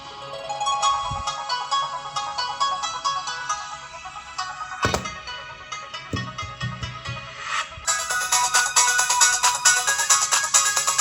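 Pre-installed music plays through the small mono speakers of a cheap $9 handheld game console, a thin, tinny melody with bright repeated tones and occasional thumps, growing louder and harsher toward the end.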